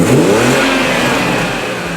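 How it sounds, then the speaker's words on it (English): A BMW B58 engine revs with its intake valves held open, giving a smooth, mid-pitched induction note that rises and then settles. It stays steady and fairly loud for about two seconds, with no talking over it. "It's pretty like tame induction noise."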